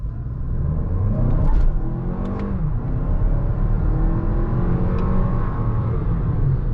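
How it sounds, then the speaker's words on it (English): A Toyota Crown Platinum AWD's turbocharged engine revs up hard with a rising tone under acceleration, then eases and climbs again, a faint turbo whistle riding above the steady in-cabin rumble. "You can hear that turbocharged engine revving, but you can also hear that turbo whistle too."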